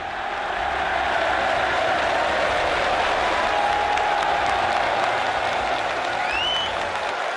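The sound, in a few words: crowd roaring at snooker championship, Crucible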